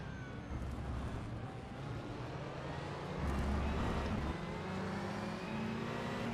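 Sustained roar of GTE racing car engines on track in the rFactor 2 sim racing game, a steady close engine drone with revving swells and a louder surge midway, continuous throughout with no talk.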